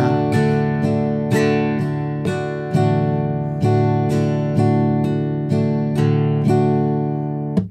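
A guitar is strummed with the thumb, flesh on the downstrokes and nail on the upstrokes, giving an even run of bright chord strikes that ring between hits, close and clear with no talk.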